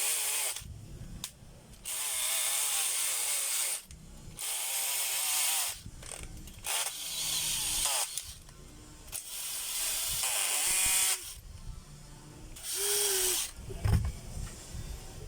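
Hammer drill run as a repair test, cutting in and out in repeated bursts of a few seconds each with short pauses between, loud and close with no talking.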